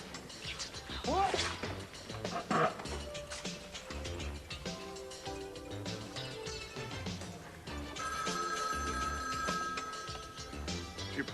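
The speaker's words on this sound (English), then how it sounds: "Answer the phone. Answer the phone." A telephone bell rings steadily in an indoor drama scene, its repeated electronic trill running under a music score and faint room sounds.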